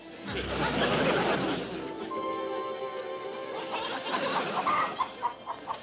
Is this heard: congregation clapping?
no